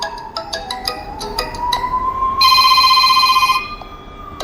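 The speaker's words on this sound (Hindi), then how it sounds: "अभी इसका फ़ोन रिंगटोन" The default Poco ringtone plays on a POCO C81x phone, a bright synthetic melody of plinking notes and a rising tone swelling into a loud shimmering chord, close and clear with no talking.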